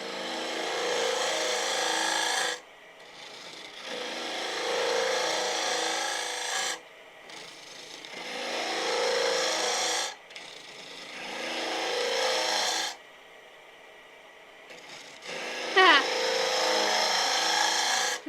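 A wood lathe cuts into the end grain of a timber blank over six inches across, the tool rasping in long steady passes separated by short quiet gaps, close and prominent.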